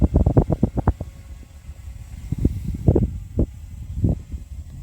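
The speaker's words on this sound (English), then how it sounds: "It's super windy. I know he's probably picking that up on my phone for this recording" Strong wind buffeting a phone microphone outdoors during a drone flight, heard as irregular low rumbling gusts and thumps, a rapid cluster at first and then scattered bursts over a faint steady whine.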